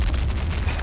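A grenade blast in the game Return to Castle Wolfenstein, a dense low rumbling boom that fills the whole short moment, loud and close with no voices.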